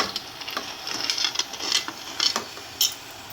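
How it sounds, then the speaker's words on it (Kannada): Crabs going into a pan of frying green masala, a busy sizzle with clinks and scrapes of a spoon stirring against the pan, close and moderately loud. "ಏಡಿಕಾಯಿನ ಹಾಕ್ತಾಯಿದ್ದೀನಿ"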